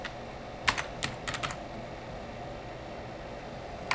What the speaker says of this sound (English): just going to type in here